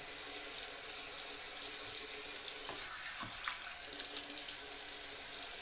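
Tap water runs steadily into a sink for rinsing off after a wet shave with a Merkur 37C safety razor, a continuous close hiss with faint splashes.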